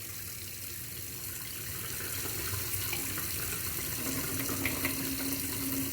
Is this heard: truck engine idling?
no